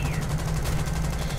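Aircraft guns firing in War Thunder air combat, a loud, rapid, continuous burst of pulsing shots that runs unbroken for the whole stretch over a low steady engine drone.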